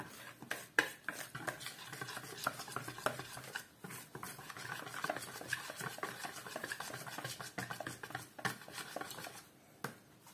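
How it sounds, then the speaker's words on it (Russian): A spoon stirring pancake dough starter in a bowl to break up lumps, quiet rapid scraping and tapping in a steady close rhythm without speech. "Сейчас ее надо будет хорошенечко размешать, чтобы не осталось комочков"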